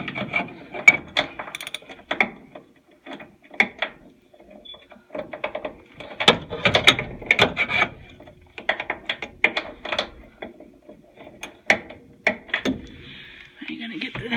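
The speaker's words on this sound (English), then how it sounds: "So there's 4 nuts you gotta unscrew." A ratchet clicks in short bursts while nuts are unscrewed on an oil furnace, close and crisp, with pauses between runs of rapid pawl clicks.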